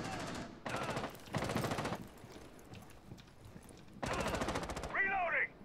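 Gunfire in Rainbow Six Siege: several rapid automatic bursts, each lasting under a second, separated by short pauses, close and loud, with a brief chirpy game effect at the end.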